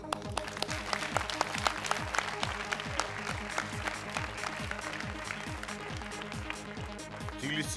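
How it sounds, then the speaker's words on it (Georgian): Applause from an audience at a magic show: clapping that goes on for several seconds, with a repeating, rhythmic sound pattern throughout. "ტაში"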